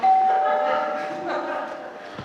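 A doorbell tone rings out during a live high school stage play, lingering and blending into a murky room hum with faint voices underneath.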